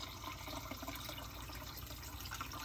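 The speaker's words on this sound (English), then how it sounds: "I'm gonna add about 4 cups of water." Water pours steadily into a pot of Taiwanese beef noodle soup, about four cups, a continuous splashing rush at moderate level with no talking.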